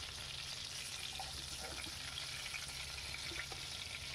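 Prawns fry in a pan with a steady, dense sizzling hiss, close and even throughout, with no voices.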